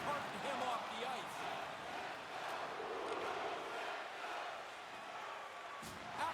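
A hockey arena crowd jeering a player in a video game, a dense, continuous roar of massed voices with rising and falling swells, moderately loud and spread out, with a short thump near the end.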